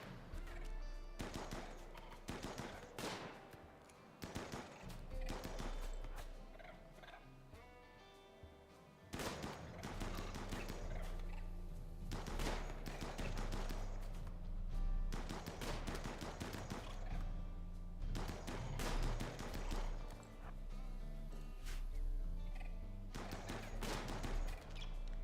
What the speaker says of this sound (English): we'll watch them gun down the turtles